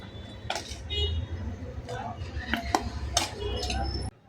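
A spoon scrapes and clinks against a pan and plate while cooked capsicum-potato curry is served, with light metallic taps under a voice talking.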